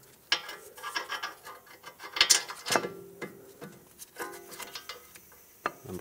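A ratchet tightens the caliper mounting bolts on a 2012–2020 Ford Focus during a front wheel bearing job, with quick irregular clicking bursts close by and a few metallic knocks, no voices.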